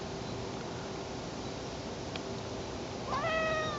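A cat being brushed with a curved Shed Ninja shedding brush lets out one clear meow near the end, following several seconds of quiet steady background hiss.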